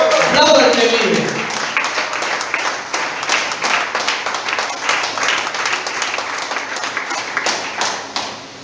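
Congregation clapping during a church service, beginning just after a short spoken phrase and continuing as dense, steady applause from many people, moderately loud with occasional voices.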